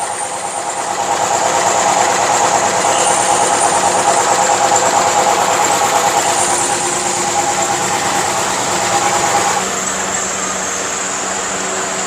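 A power drill whirs steadily as it bores holes in a flask lid, a loud continuous high-pitched motor drone that holds for about nine seconds before easing to a lower running hum.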